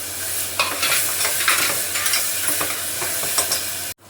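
Onion and tomato sizzle and fry steadily in a pan, with repeated scraping strokes from stirring throughout, ending in a brief sharp cut-off.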